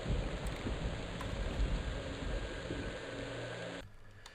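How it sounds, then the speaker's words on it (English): Steady rain hisses evenly across an outdoor area in the fantasy online game EverQuest (Project Quarm server), a soft, dense wash of noise that cuts out abruptly shortly before the end. "And what perfect timing, because the rain just started again."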